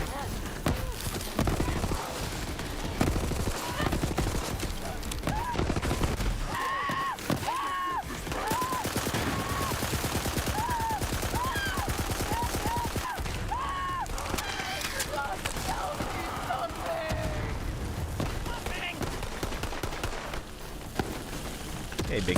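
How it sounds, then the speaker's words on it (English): Shotgun blasts and other gunfire crack through a busy video game soundscape played on Stadia, repeated heavy shots over constant game noise and music, with a person talking at times. "I keep getting all these shotguns"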